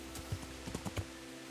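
Horse hooves clop a few times in Kingdom Come Deliverance, a short irregular run of soft thuds against a quiet game background.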